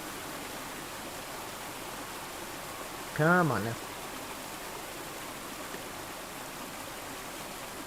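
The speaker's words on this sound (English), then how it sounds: "A lot of water running." Steady rushing water runs throughout a scene in the Call of the Sea video game, a broad continuous wash of sound, with a voice speaking briefly partway through.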